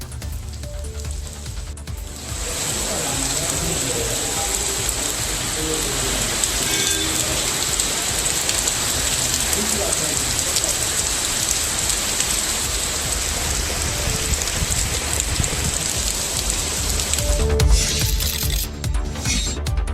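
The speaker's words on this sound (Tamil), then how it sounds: "கனமழை பெய்ததால் சாலைகளில் தண்ணீர் தேங்கியது." Heavy rain pouring onto flooded streets, a dense, steady hiss of falling water that holds loud and close throughout, briefly swelling near the end.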